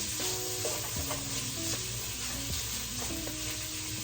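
Sausage fries and is stirred in a pan for copycat Olive Garden Zuppa Toscana, giving a loud, steady close sizzle with spatula scraping across the pan bottom throughout.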